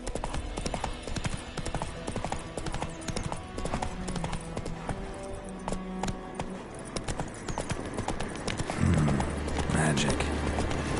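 Roach the horse galloping in The Witcher 3, a steady run of hoof clip-clops beneath game music and ambience, with heavier rumbling hoofbeats toward the end.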